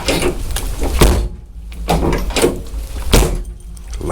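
A key works the door lock of a 1979 Chevy Malibu, making a few sharp mechanical clunks and rattles close by, with a quieter handling noise between them.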